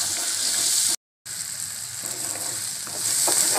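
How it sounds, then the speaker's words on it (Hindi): Finely chopped small onions fry in an oil-filled pan for a potato and bean curry, giving a steady close hiss and crackle with one short total dropout near the start and no talking. "मैंने 2 छोटे साइज़ के प्याज ले लिए थे, उसको मैंने बारीक काट लिया और इसमें चला जाएगा ये। इसको हम 2 मिनट भून लेंगे"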